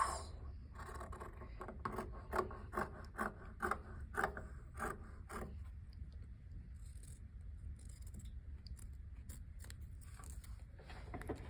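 Scissors cutting through folded fabric in one pass for a cowl drape, a run of crisp rasping snips in quick rhythm that then thins into a quieter, steady rubbing of cloth, close and alone.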